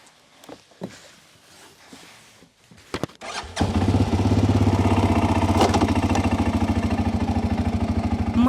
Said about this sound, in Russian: Мотор рычит, и вот я впервые в жизни поехала на квадроцикле